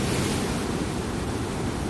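Sea waves at Cherai beach make a continuous, even wash of surf noise with some wind, moderately loud and without any voices.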